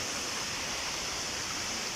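A mountain-fed waterfall in Absam, Tyrol, Austria pours in a continuous, even roar of rushing water, a steady broadband hiss with no breaks or other sounds.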